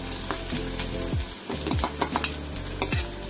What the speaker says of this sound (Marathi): आता मी कांदा टाकते, तेल गरम झालंय